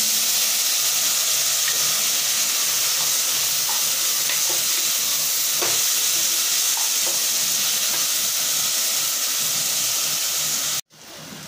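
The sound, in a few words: onions and tomatoes sautéing in a pan for mutton gravy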